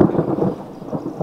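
Thunder rumbles over a high mountain village, a deep rolling crash that stays loud and steady for the whole short stretch, with no voices.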